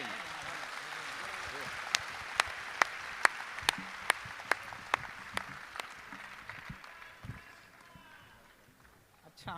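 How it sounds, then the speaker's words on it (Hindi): Sparse, sharp hand claps at a Hindi poetry gathering (kavi sammelan), roughly a dozen crisp claps in a fairly steady rhythm over low crowd murmur, thinning out and fading toward the end. "मैं चाहता हूं कि तालियों को भी शिखर में तब्दील कर दें।"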